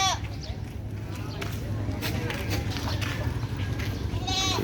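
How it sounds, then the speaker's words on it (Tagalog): Goats bleat at a busy livestock market in Sagay, with a few calls near the start and again near the end over a steady bed of crowd noise and voices. "Ang daming kambing dito po."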